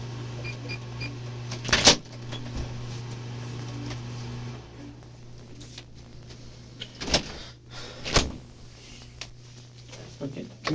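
A door opens and a running fan is switched off in an interrogation room in Philadelphia, with sharp clicks and knocks over a steady low fan hum that drops away partway through.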